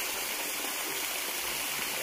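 A small waterfall on a flowing stream at Karjat rushes in a steady, dense wash of water, close and continuous with no voices.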